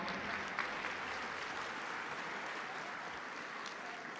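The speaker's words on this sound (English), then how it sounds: "Round of applause, everybody." A crowd applauds at an evening charity benefit show, a dense, even wash of clapping from many hands that holds steady throughout, heard from some distance at low level.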